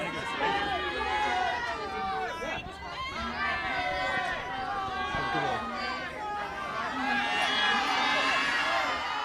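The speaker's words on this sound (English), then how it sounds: "It's really noisy behind me. They're cheering for us, not Matt." A noisy crowd cheers and chatters at a busy event, a dense babble of many voices with shouts rising in and out, close and fairly loud throughout.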